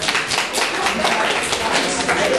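A talent showcase audience claps hands together, loud, dense and continuous for a couple of seconds, with crowd voices mixed in.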